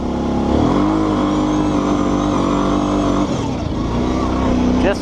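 A Kawasaki Brute Force 650 ATV stuck in two-wheel drive on steep ground at an off-road park howls at full throttle, its engine held high and steady with a brief dip, wheels spinning in place.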